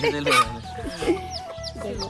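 Desi hens cluck close by in short, repeated calls, with a person speaking softly over them.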